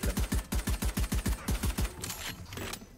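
Valorant gun shots in a fast even string of about a dozen close, punchy reports, shotgun blasts and Sheriff pistol shots, fading into quieter game ambience after two seconds.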